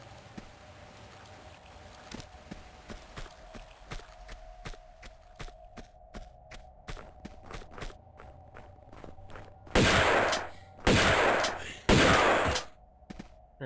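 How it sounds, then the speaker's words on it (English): Loud bursts of gunfire in Tomb Raider II: Golden Mask, a few sharp cracks early then three heavy sustained volleys near the end, over a steady low hum. "Guns do sound very nice in this. They're very loud."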